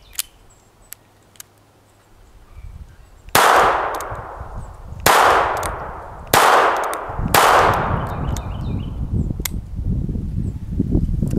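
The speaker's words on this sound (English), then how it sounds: "So now I've loaded this guy up with 5 rounds of Standard Velocity 22 long rifle." A revolver fires standard velocity .22 Long Rifle rounds at a steel target outdoors, four sharp loud shots at uneven intervals, each ringing briefly before decaying, with quieter handling clicks before the first.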